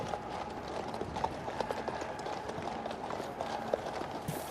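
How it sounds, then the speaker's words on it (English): Hooves of a Major General's horse clip-clopping at the head of a military parade in London for the VE Day 80 commemoration: steady, evenly spaced clops over a broad, murmuring outdoor crowd ambience. "His horse, Otto."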